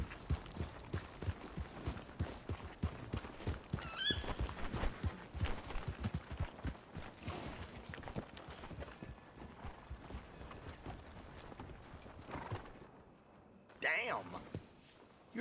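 Horse hooves clip-clopping in the Western video game Red Dead Redemption 2, a dense run of close, rhythmic hoof knocks that thins out toward the end, with game character voices talking over parts of it.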